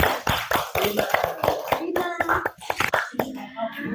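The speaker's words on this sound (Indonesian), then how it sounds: "Kasih tepuk tangan dulu" A class of students claps hands in a classroom, sharp irregular claps in loose bursts, close and fairly loud, with children's voices mixed in between the claps.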